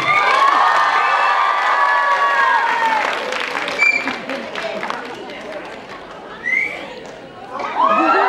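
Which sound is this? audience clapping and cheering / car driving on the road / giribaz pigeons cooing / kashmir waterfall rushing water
audience clapping and cheering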